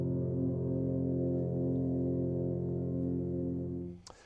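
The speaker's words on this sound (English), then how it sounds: "And when the F tubas play together, they sound like this." F tubas play together, holding a deep, sustained brass chord that stays steady and full for about four seconds before cutting off, followed by a brief bit of noise.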